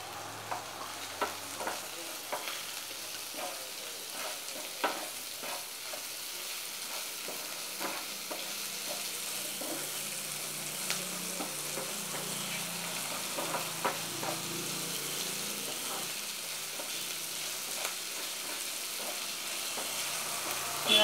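Vallarai leaves fry in a pan with salt, giving a soft, steady sizzle dotted with light scraping stir clicks throughout, close and fairly quiet, with no voices.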